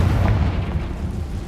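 A Confringo fire spell from the game Hogwarts Legacy bursts in a single short, deep boom that rumbles heavily, then fades quickly, with no talking.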